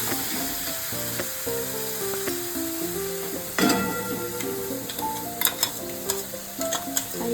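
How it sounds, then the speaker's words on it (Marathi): Spicy potato filling for aloo paratha sizzles as it is sautéed and stirred in a pan, with scraping strokes and crackle over steady background music. "याला आता छान प्रकारे असं परतून घ्यायचं आहे"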